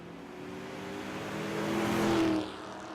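A fifth-generation Camaro launches down a drag strip at Texas Motorplex, its engine droning and climbing in pitch to a peak before easing off, heard from a moderate distance.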